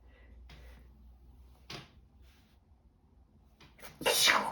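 After some quiet shuffling and a faint voice, one sharp, loud sneeze bursts out at the end, close by.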